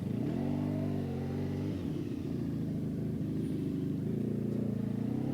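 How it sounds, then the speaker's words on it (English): A Honda VFR1200F V4 motorcycle fitted with a Coffman Shorty slip-on exhaust idles with a steady, deep, lumpy burble, close by and unbroken, with a slight shift in tone partway through. "I think it sounds kind of like a twin or even a big dirt bike, like a big thumper."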